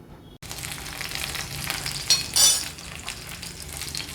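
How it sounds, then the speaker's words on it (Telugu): Lotus stem pieces frying in hot ghee give a steady, close sizzle with brief louder crackling bursts, no one speaking. "నెయ్యి కాగిన తర్వాత దాంట్లో తామరకాడ ముక్కల్ని వేసాం"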